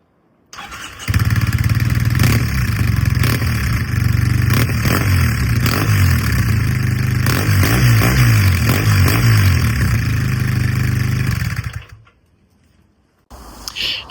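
A Triumph motorcycle with a newly fixed exhaust starts up and revs, a loud, close mechanical roar with rising and falling throttle blips for about eleven seconds before cutting off, followed by a brief faint clatter.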